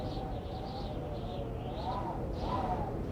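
Birds sing in a peaceful garden, with soft chirps and gentle dove-like coos drifting faintly over a quiet background.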